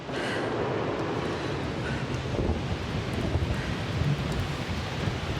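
Steady storm wind roars in a video game, a continuous broadband rush that is moderately loud, with no distinct thunder crack standing out.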